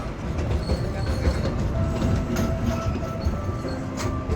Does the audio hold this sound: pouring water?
no